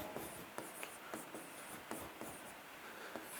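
A definition being written on a board: soft, close scratching strokes with regular short taps about every half second, alone and fairly faint.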